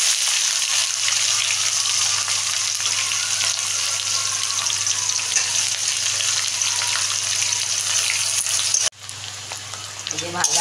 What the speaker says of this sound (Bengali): যে ভাজাটা হচ্ছে পেঁয়াজ